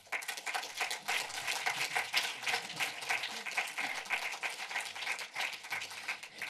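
Audience applause welcoming a lecturer to a film lecture, dense steady clapping from a full hall that holds evenly for several seconds without voices.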